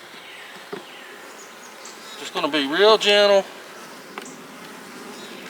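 Honey bees hum softly and steadily around an open hive split being worked, while someone speaks briefly in the middle over the faint, continuous buzzing.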